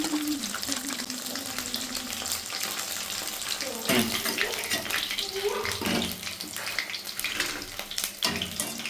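Mushroom pieces for a mushroom chilli dish bubble and hiss in hot oil as they are dropped in one by one, a dense continuous sizzle close by with faint voice underneath.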